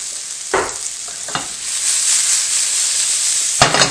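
Onions hit hot olive oil in a skillet with a loud, steady hiss of frying. Three short stirring or scraping bursts stand out against it, one near the start, one a moment later and one at the end.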